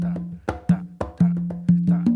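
Congas play a guaguanco pattern in rumba clave, with about ten crisp, resonant open tones and slaps in a quick, lilting rhythm, close and loud with no voices.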